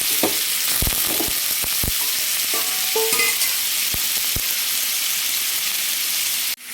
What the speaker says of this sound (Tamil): காரமெல்லாம் போட்டு மசாலாவெல்லாம் போட்டு கொஞ்சம் வதக்கிக்குவோம் நல்லா